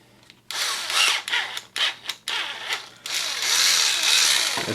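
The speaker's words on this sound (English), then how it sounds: "This drill's about dead even." A nearly dead power drill drilling into a small die-cast Hot Wheels BMW E30 M3 toy car, whirring loud and close in several uneven bursts with brief stops between, ending in a longer steady run.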